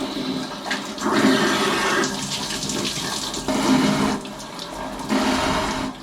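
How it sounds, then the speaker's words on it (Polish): A cold shower runs hard, a loud close rushing spray of water that surges and dips in several waves over six seconds, with no voices. "czyli brania lodowatego pysznicu, czyli po prostu wchodzenia do cholernie zimnej wody"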